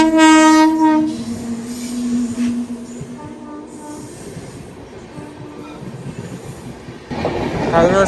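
A Jan Shatabdi Express rolls along, heard from inside a crowded general coach: a loud horn opens, then steady wheel rumble and rattling carriage noise, growing louder again near the end.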